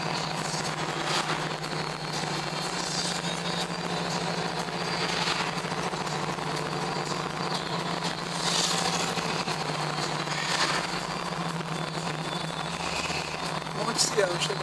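Ford Maverick engine running steadily while driving, a constant low hum with road and wind noise throughout, people talking over it.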